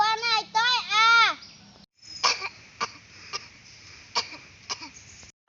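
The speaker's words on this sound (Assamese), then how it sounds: "তই কিয় কাহি আছ?" A child coughs several times in short separate bursts, close by, after a brief wailing, whining vocal at the start.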